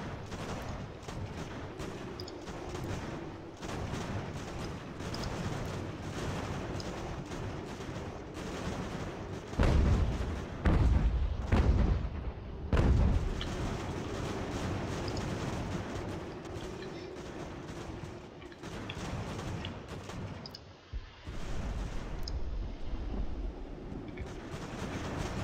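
Cannon and gunfire boom through a battle in the video game Ultimate General American Revolution, with several heavy low blasts midway over a continuous rumbling din of combat.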